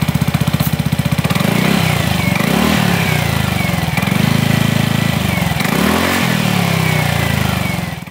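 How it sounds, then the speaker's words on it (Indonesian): A Yamaha NMAX scooter fitted with a Pro Speed Scooter Series exhaust idles loudly and close with a rapid popping thrum, revved in several short swells that rise and fall, with no talk over it. "jadi ini dia suara knalpotnya"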